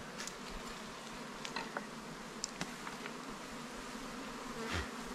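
Honeybees buzzing around a hive on a bee farm, a steady dense drone of many insects close by with occasional brief louder passes and small knocks, no talk.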